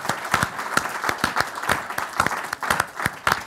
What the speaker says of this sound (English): a round of applause for the team that put all this on